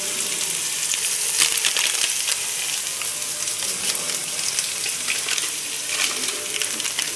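Cauliflower manchurian with masala paste and garam masala frying in a pan, a steady sizzle with scattered crackles and occasional stirring scrapes, fairly close.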